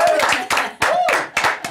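Studio audience applause on a French TV show honoring Bonnie Tyler, brisk clapping in short surges mixed with voices talking over it.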